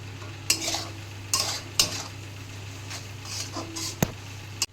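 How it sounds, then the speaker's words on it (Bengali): Spices for a katla fish head muri ghonto sautéed in a pan: a low steady frying hiss under a series of sharp spatula scrapes and stirring knocks, close and moderately loud, with no talking. "ভালো মতো মশলা কষানো হয়ে গেছে"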